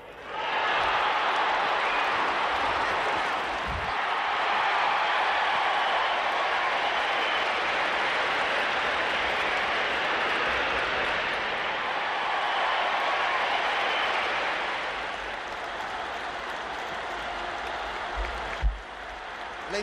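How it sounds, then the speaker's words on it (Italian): A vast crowd in St. Peter's Square applauding and cheering the newly elected Pope John Paul II, a sustained dense wash of clapping and roaring that holds for many seconds before easing slightly, with a few sharp thumps near the end. "L'entusiasmo della folla si fa più intenso"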